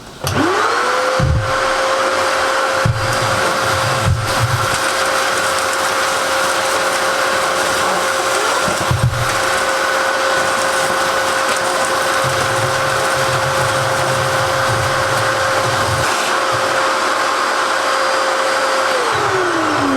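A compact domestic gutter vacuum whirs up to a loud, steady motor whine, with rattling crackles as dry leaves are sucked up, then winds down at the end.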